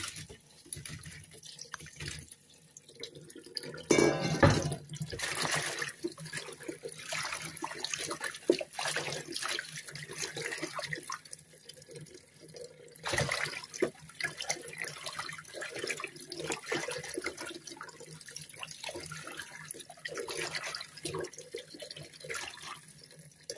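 Freshly picked rosella hibiscus being rinsed under a running kitchen tap produces a continuous, uneven water splash and trickle, with surges and handling noises as the calyces are moved about in the stream.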